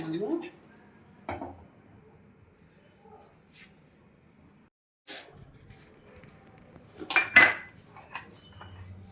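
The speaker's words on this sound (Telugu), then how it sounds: "ఒక కళాయి పెట్టేసుకుందాం మనము." A kadai pan set on a lit stove in a home kitchen, scattered metallic clinks and clanks of cookware, a sharper clatter near the end, with speech in between.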